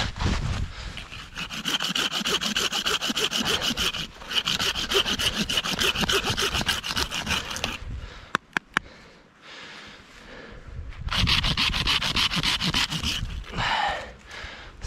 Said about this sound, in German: So, so ein paar Heringe schnitzen, wa?